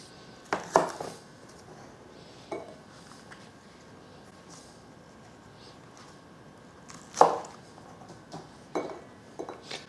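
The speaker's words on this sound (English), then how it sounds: "You just want to slice these thinly." Knife slicing a bunch of scallions on a cutting board: a handful of sharp, separate taps on the board with long quiet gaps between them, close and clear, no talking.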